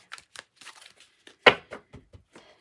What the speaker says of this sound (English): I'm going to just shuffle a little bit, and then I'm going to pull them so I don't get too many.